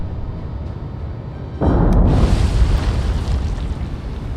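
A torpedo strikes a warship in the naval combat game War on the Sea: a loud, deep explosive boom bursts in suddenly and then rolls on as a sustained rumbling roar over a steady low background of sea and engine noise.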